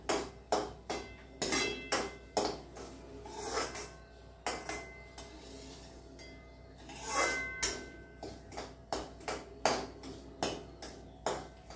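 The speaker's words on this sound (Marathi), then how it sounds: "आता तुम्ही भाजून घेते, चांगला तांबूस थोडासा होईपर्यंत भाजणार आहे।" Semolina roasting in ghee in a pan for sweet sheera, heard as repeated scraping and clinking of a spoon against the metal at a steady stirring rhythm, fairly close and with no talk.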